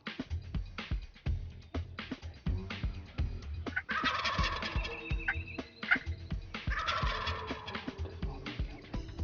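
A wild turkey longbeard gobbles among a group of jakes in the field, with two loud, rattling gobble bursts standing out over a background of repeated clucks and shuffling noises.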